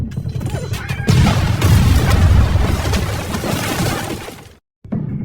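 A grenade blast and a building collapsing in an attack on a gangster hideout: a loud, sustained crashing roar of smashing and breaking debris for several seconds, then a sudden cut to silence and a brief renewed rumble.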